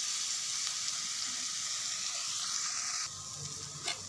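Spices and a little salt frying lightly in a pan for a puti fish curry, a steady broadband sizzle that drops quieter about three seconds in, with a brief clink near the end.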